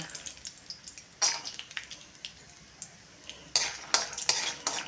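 Peanuts roasting in oil for a green chili kharda side dish, a low sizzle broken by sharp crackles and stirring clinks that come in short bursts, close by, no talking.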